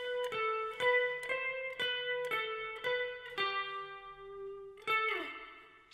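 Lead guitar line picked on the third string in the style of a song, a run of about seven clean plucked notes in steady rhythm, the last ringing out longer, close and alone.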